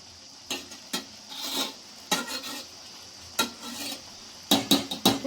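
A spoon stirs cooked vegetable pulao rice in a pot in gentle, scraping strokes. Soft sizzling and rustling come in short bursts at irregular intervals, close by and fairly quiet, with no talking.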